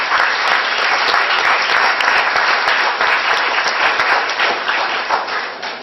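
A dense, loud round of applause from an audience at a school district board meeting, honoring fifth grade middle school students, holding steady for several seconds before easing slightly at the end.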